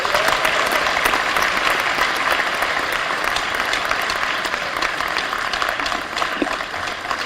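A conference audience at a UN Habitat III Africa regional meeting applauds to adopt a declaration, a loud, thick wash of many hands clapping continuously and fading only slightly toward the end.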